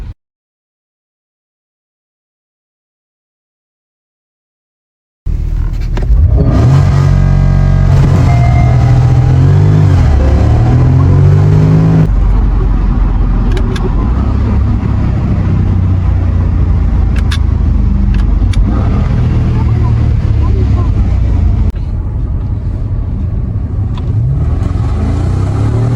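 After several seconds of silence, a Porsche Panamera 4S launches and accelerates hard, its loud engine surging through rising gear pulls with shifts, then roaring on at speed with road and wind noise, very close inside the car.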